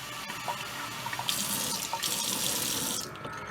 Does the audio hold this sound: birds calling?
no